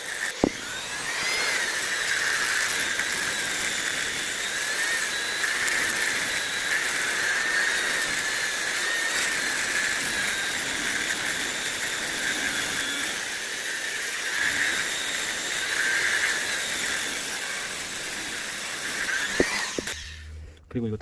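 A handheld power grinder and sander shapes the handle of a homemade wooden slingshot, giving a continuous loud high whir with slight rises and dips in pitch, running close up for the whole stretch before cutting off near the end.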